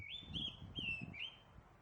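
A clear, high whistled oriental magpie robin song in several bright phrases, close and distinct, with soft low rustling underneath.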